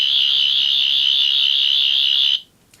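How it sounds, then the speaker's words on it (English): A toy Doctor Who sonic screwdriver emits a steady, shrill electronic whine for over two seconds, then cuts off abruptly into quiet. "Sound of the sonic screwdriver."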